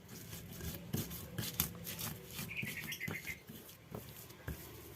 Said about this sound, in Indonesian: Lalu masukkan kacang yang sudah digoreng tadi. Diulek sampai agak halus ya.